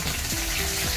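Cumin, mustard seeds and curry leaves sizzle steadily in hot oil for a potato bhaji, a close, continuous crackling fry with no voices.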